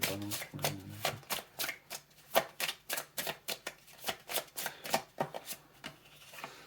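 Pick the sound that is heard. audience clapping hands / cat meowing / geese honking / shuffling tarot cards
shuffling tarot cards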